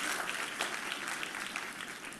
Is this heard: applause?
yes